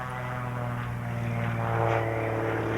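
Propeller stunt plane at the 1994 Dayton air show flying aerobatic maneuvers, its engine a steady droning hum with strong harmonic tones, rising slightly in loudness toward the end, heard alone without talk.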